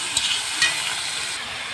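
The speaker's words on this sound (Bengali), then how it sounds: "মাছ ভাজা তেলের উপর সে পেঁয়াজ, কাঁচা লঙ্কা আর আলু, এগুলো আমি তেলের উপর দিয়ে নিলাম" Onion, green chili and potato frying in oil left over from frying fish: a close, steady sizzling hiss with a couple of faint utensil clicks.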